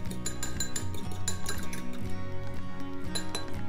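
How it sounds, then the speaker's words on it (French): An egg whisked for an omelette in a bowl, rapid rhythmic clinking and tapping of a utensil against the bowl, loud and close, continuing steadily throughout. "Vous fouettez un œuf en omelette."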